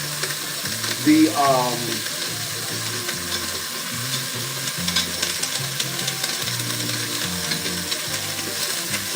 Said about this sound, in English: So what we're doing right now is we're searing it.